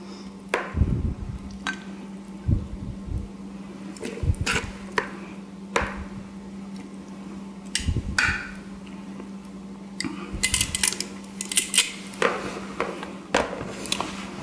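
Coleslaw being mixed in a bowl for a Hawaiian teriyaki veggie burger, heard as scattered clinks and scraping knocks of utensils against the bowl, irregular and close, with no talking.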